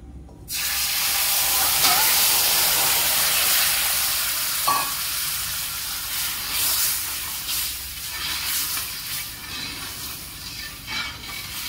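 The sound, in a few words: jaggery water added to roasted wheat flour, sizzling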